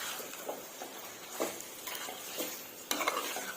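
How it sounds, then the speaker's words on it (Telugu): Liver fry being stirred with turmeric in a pan, a spoon scraping and clinking against the metal in a few irregular strokes over a soft sizzle, fairly close. "ఒకసారి కలుపుకుందామండి, బాగా మిక్స్ చేసుకుందాము."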